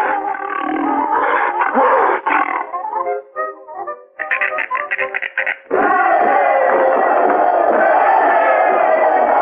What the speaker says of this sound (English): What if the lion bites the rope in two and get away, Amos?